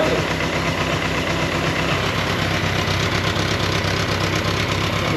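A BMW K100 motorcycle engine idles steadily close by, a constant even mechanical chug and whir with a rough rhythmic pulse throughout.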